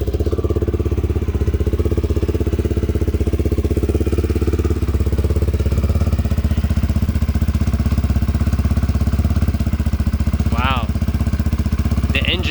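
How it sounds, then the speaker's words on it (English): A Honda XL250R single-cylinder motorcycle engine runs steadily nearby with an even, rapid thumping pulse, and a voice speaks briefly over it. "Engine's nice and quiet."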